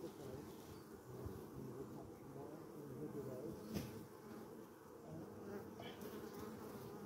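Bees buzz around a beehive in a continuous, fairly faint drone with many insects overlapping, steady throughout with small swells and no talk.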